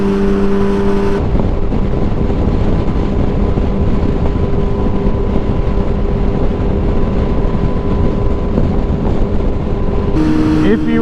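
A Yamaha R6 sport motorcycle accelerating on a road ride, its engine drone loud and close, with steady wind rush across the whole stretch and brief tonal whine near the start and end.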